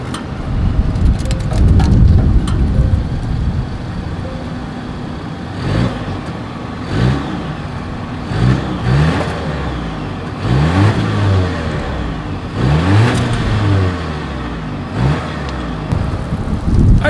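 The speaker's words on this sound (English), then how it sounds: "Here is that exhaust clip." A 2022 Volvo S60 sedan's exhaust rumbles at idle and then rises through several rev bursts, recorded close behind the car with steady engine tone between the throttle blips.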